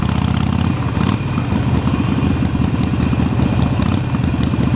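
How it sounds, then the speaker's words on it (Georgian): A motorcycle engine idles and revs loudly and continuously at a moto season opening drift event, with a steady rattling throb throughout and no voices. "მოტო სეზონის გახსნის დღეს დრიფტზე ვიყავით ბაიკერები."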